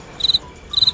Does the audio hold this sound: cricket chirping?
yes